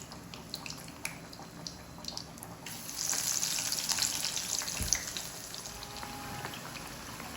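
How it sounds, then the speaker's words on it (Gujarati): Green onion and mogar dal vada frying in hot oil, a steady close sizzle and crackle that grows louder and busier partway through, with no talking. "તેલ મૂકી અને મસ્ત પછી એને ફ્રાય કરી લેવાનું"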